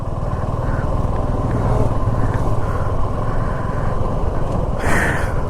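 A motorcycle engine running with the clutch pulled on the mountain road from Zojila Pass toward Kargil in Ladakh, a loud, steady close drone with wind rush throughout.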